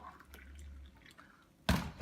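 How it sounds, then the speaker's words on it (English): Just-boiled water poured into a cup, a brief bright splashing gush arriving near the end after a quieter stretch of low background hum and faint trickles. "what I like to do is to just pour the water into the cup"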